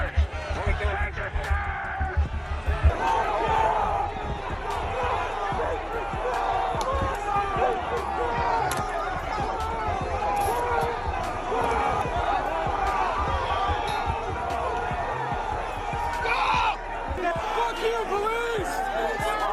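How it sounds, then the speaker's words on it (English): Rioting crowd clashing with police on the stairs of the US Capitol, a dense continuous roar of shouting voices with thuds and bangs, loud and close throughout. "Fighting continues on the stairs, but only for a few more minutes, and eventually the police are overwhelmed and the crowd begins to push past them."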